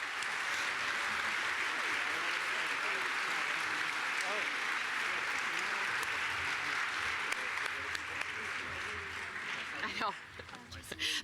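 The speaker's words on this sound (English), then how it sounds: "So round of applause for this fantastic team." A live audience at a center's event applauds a team, a dense sustained wash of clapping that carries on for several seconds before thinning out near the end.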